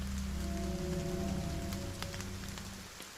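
Steady rain falls on a surface at night, a soft continuous patter with scattered droplet ticks, fairly faint and unbroken by voices.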